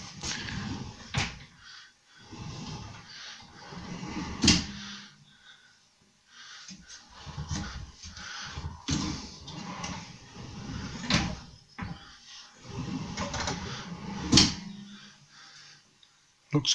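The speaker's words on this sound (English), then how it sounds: "This corner unit, magic corner unit." Magic corner pull-out unit in a newly fitted kitchen cabinet run being opened and closed, giving repeated sharp knocks and sliding clunks with bursts of rattling metal mechanism and pauses between, close by and fairly loud.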